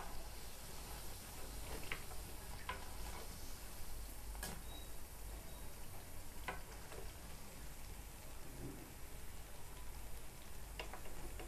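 Steady soft sizzle of vada frying in hot oil, with faint crackles and occasional ticks over a continuous hiss, close and alone without talk.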